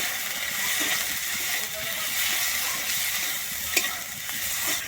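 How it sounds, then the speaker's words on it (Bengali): Tomato and capsicum fry with turmeric in a pan, giving a constant close sizzle with occasional scraping and clinking of a stirring spoon. "এবারে হলুদ দিয়ে আমি খুব ভালোভাবে টমাটো আর ক্যাপসিকামটাকে ভেজে নেবো"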